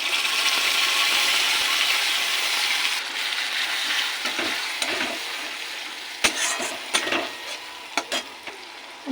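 Ground spice paste sizzles steadily with fried chopped onions in a pan for a chicken dish, with a spoon or spatula scraping and clinking sharply against the pan as it is stirred.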